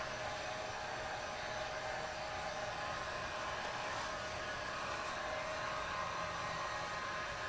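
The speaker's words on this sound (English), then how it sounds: "don't hold the heat gun in one spot because it will bubble up the paint" A heat gun blows hot air over fabric to dry paint, a loud steady close-up whooshing roar with a faint whine, unbroken throughout.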